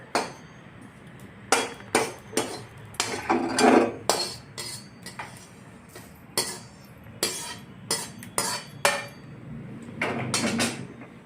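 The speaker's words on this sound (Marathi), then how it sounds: "आता आपण तीळ भाजत आहोत सुद्धा खूप खरपूस भाजून घेणे" Sesame seeds dry-roasted in a pan for a curry-leaf chutney, with sharp irregular metallic knocks and scrapes of a spoon against the pan over a low background, close and fairly loud.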